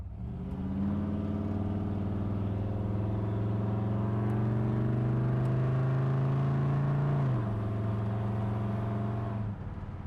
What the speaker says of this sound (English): The car shifts real nice and has plenty of power.